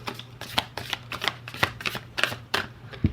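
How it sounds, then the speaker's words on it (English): Oracle cards being overhand shuffled in quick riffling bursts, about a dozen crisp rustles in an uneven rhythm, close by, with a faint steady hum underneath. "I'm going to do a 3-hand over shuffle"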